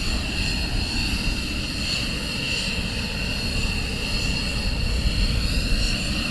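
Military aircraft engines running at RAF Lakenheath, a steady droning roar with a high whine, distant and constant, with wind in the background.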